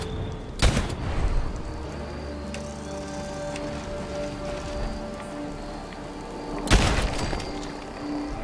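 Heavy weapon firing at a fog crawler in Fallout 4, with two loud booming blasts about six seconds apart over a steady rain-like ambient game background.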